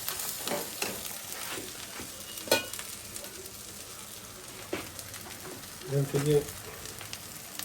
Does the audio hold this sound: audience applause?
no